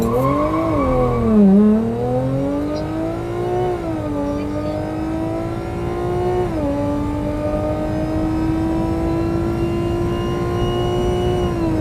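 An Audi S4 fitted with an exhaust mod revs near the lowered launch-control RPM of about 2100, then launches with wheelspin as the engine note dips and climbs in steady rising sweeps, loud and close.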